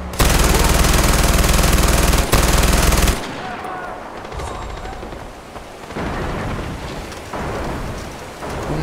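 Rapid, loud bursts of gunfire from weapons in the video game Far Cry 4 fill the first three seconds, then drop to quieter scattered shots and ambient game noise.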